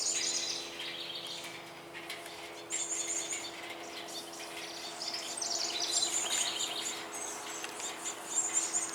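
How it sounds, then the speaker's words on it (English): Birds sing and chirp in a garden in early June, with bright overlapping calls repeating throughout against a steady, gentle outdoor background. Nobody speaks. "I love the birds."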